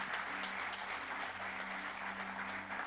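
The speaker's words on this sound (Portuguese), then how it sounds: "Você pode dar mais um aplauso ao Senhor" Steady congregational applause in a church service, continuous moderate clapping with a low musical hum underneath, fairly faint.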